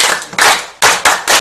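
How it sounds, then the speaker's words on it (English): A small group in a classroom claps for a student in a few sharp, loud bursts of hands, with short pauses between the rounds. "Clap for her."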